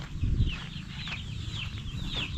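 Chickens and chicks clucking and peeping on a farm at feeding time, a flock of repeated short chirps and soft clucks close by, with low rustling and shuffling underneath and no voices.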